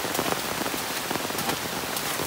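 Heavy rain pours down on a farm, a dense, constant hiss of drops striking surfaces, loud and unbroken with no talking.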